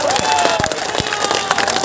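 A crowd at a political rally claps and cheers together, a loud, dense burst of applause with scattered shouts, brief and close with no speech over it.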